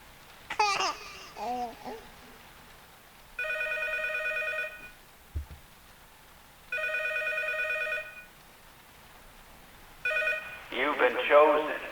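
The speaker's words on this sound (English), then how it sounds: "and the phone rang." A telephone rings twice in evenly spaced electronic bursts, with a baby's babbling laughter before and after the rings.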